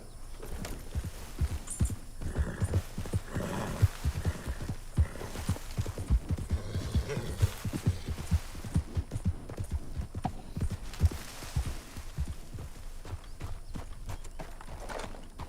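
Horse hooves clip-clop steadily at a walking pace in Red Dead Redemption II, an even rhythmic stream of close hoofbeats with a soft low hum beneath and no talking.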